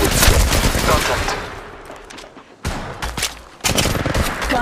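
Gunfire in Apex Legends Mobile comes as dense rapid bursts of automatic shots, loud and close, that fade out, stop briefly, then resume in two more sharp volleys.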